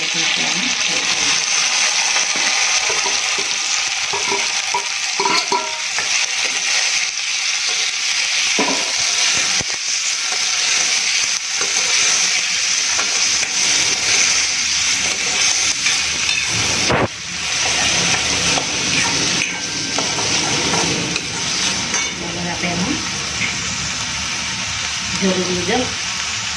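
Chopped onions and tomatoes frying in oil for a Gujarati papad curry, giving a loud, continuous hissing sizzle with occasional stirring scrapes, close and steady throughout.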